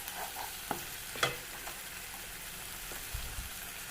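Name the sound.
sautéing garlic in a pan for samosa filling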